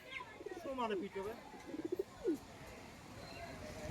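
High-flying pigeons coo nearby in a short run of soft, rolling calls and a few clipped pulses, then quieter ambient noise follows.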